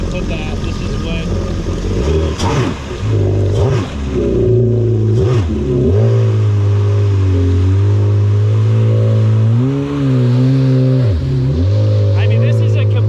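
A 2021 Sea-Doo FX Cruiser HO jet ski with a RIVA Stage 1 exhaust idles and revs up and down several times, its loud, close engine drone rising and falling in pitch, with someone talking over it.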